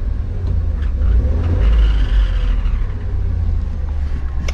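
A van engine with an odd fault noise rumbles loudly up close, rising as it revs and then settling back, with a deep, rough low drone throughout.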